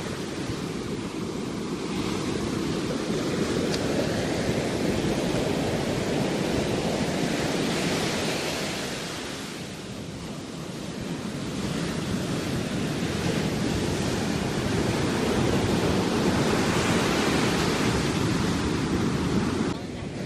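Ocean waves breaking on the shore near Sand City, a loud continuous roar of surf with wind buffeting the microphone, swelling and easing slightly midway.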